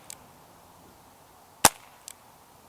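A Walther CP88 Comp air pistol fires double action: one sharp, loud crack near the middle, preceded and followed by faint mechanical clicks, otherwise quiet.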